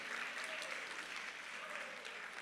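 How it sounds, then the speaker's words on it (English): A school assembly audience applauds teachers in a steady, moderately distant wash of clapping that continues evenly throughout, faint in level. "Give them a big round of applause for all the work they do."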